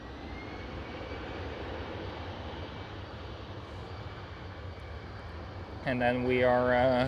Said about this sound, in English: Right here we do have a Lufthansa with the old livery A319 taking off.